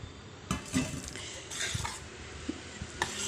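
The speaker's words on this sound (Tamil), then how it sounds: "தேங்காய் பால் எடுத்து இதனுடன்" Spoon stirring coconut milk into kavuni black rice porridge in a pot, soft scraping and a few light clinks of metal on the rim, close and quiet, with no talking.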